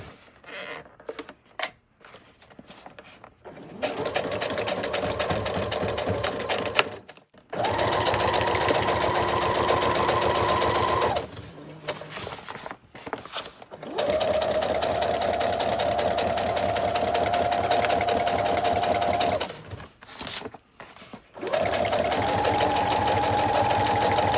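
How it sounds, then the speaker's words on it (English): Sewing machine stitching around the edges of wallpaper on a lamp shade, running in steady bursts of several seconds each, separated by short pauses, close and fairly loud, with no talking. "So I'm just going to sew around the edges."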